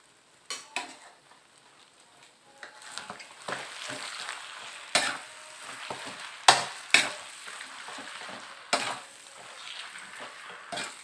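Marinated pork stir-fried in a wok with sweet dark soy sauce sizzles steadily throughout, broken by sharp clanks and scrapes of a spatula against the pan at irregular intervals, close and moderately loud with no talking.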